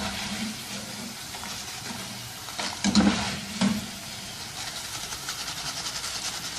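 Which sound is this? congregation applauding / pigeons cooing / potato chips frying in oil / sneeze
potato chips frying in oil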